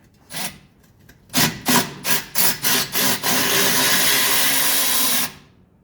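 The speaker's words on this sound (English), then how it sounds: "here's that 10mm nut that I want to remove right here." A wrench or ratchet working a 10mm nut on the brake assembly of a Mercedes W116 300SD, with a few short scraping strokes, then a quick run of ratcheting clicks and a sustained grinding rasp, close up, with no speech.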